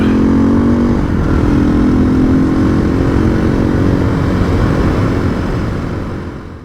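A Sherco 500 ADV big-bore dual-sport motorcycle ridden on a country road, its engine droning loud and close with a steady rumble and a pitch that climbs early on, holding level before easing off at the end.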